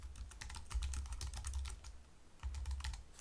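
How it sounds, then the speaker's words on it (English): Typing on a computer keyboard, heard as soft, rapid clicking keystrokes in two short bursts with a brief pause between, close to the microphone, quiet, and with no talking. "and then I can type in here"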